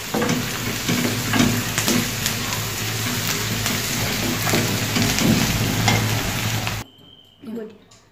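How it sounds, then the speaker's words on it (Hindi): Onions sizzle and crackle steadily in a hot pan, a dense frying hiss that cuts off abruptly near the end. "यहाँ हमारे प्याज फ्राई हो रहे हैं"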